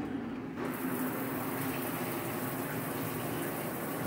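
A 12 inch shower head switches on after a brief quiet moment, then sprays water in a steady, full hiss of streaming droplets that stays constant and fairly loud, with no voices over it.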